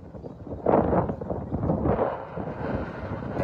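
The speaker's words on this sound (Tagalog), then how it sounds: "Biglang lumakas ang hangin." Strong wind buffets the microphone in rough gusts, surging loudly and then holding a heavy, roaring rumble.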